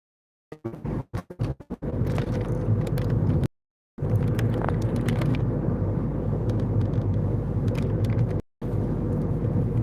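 A car drives along a quiet residential road in Niagara Falls, its steady engine and tyre rumble close and loud, broken by a couple of brief dropouts after some opening knocks.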